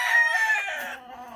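Chickens in a container-type chicken house give a short, clear crow-like call that trails off into softer clucking, close and alone.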